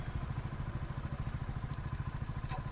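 A motorcycle engine idles close by after a start on a driving-test ground, putting out a steady, rapid low thumping with a light mechanical clatter.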